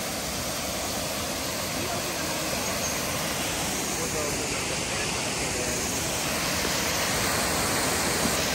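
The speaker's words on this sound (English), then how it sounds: "coming to see an awesome waterfall" A waterfall at a state park near Manchester, Tennessee roars as a steady broadband rush of falling water, loud and unbroken throughout.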